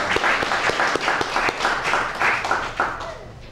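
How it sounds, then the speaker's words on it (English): An audience claps for a poet at a poetry reading in a branch library, with loud, dense, sustained applause that holds steady before easing slightly at the close. "give him another round of applause there"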